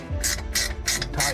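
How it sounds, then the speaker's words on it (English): A 7/16 wrench tightening a nylon nut on a boat pump's reverse gate, four quick ratcheting clicks in a row, close and clear over a low background hum. "And then you take your 7/16 wrench"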